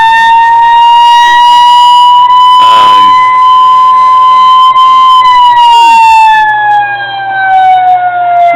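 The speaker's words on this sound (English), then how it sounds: "Next to the emergency lighting button is the siren that you asked for." A loud, close siren on a 1:16 scale model 1975 GMC C-65 fire truck wails steadily, its pitch holding then sliding downward near the end, with a brief burst of other noise partway through.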